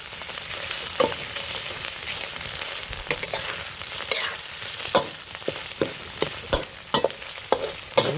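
Red curry paste frying in a hot pan for a spicy stir-fry, a loud continuous sizzle with repeated scraping strokes of a spatula stirring at a steady, quickening rhythm, close up and without speech.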